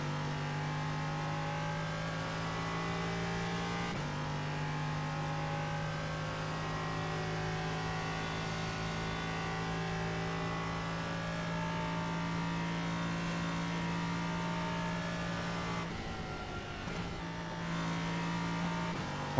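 A race car engine in the iRacing simulator holds a steady, strong drone at full throttle, with its pitch climbing gradually and two brief dips where gears shift, running alone without talk for about twenty seconds.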